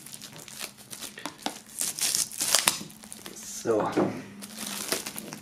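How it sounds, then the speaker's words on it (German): Plastic foil is peeled and crinkled off a boxed 18-karat gift set, a close crackling rustle in uneven bursts lasting several seconds, with someone speaking briefly over it. "Wir holen das Ganze mal aus der Folie"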